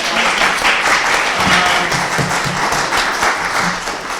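An audience applauds panelists at a panel discussion: loud, dense clapping that runs continuously through the whole stretch.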